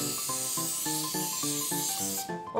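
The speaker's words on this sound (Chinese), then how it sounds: "用的是这种菜籽油的油喷雾" Rapeseed oil sprays from an aerosol can in a steady close hiss lasting a couple of seconds, with a rhythmic background hum beneath it.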